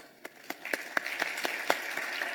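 Clapping for panelists at the close of a migration and development workshop, a handful of distinct claps that build into a light, rhythmic patter from a small audience nearby.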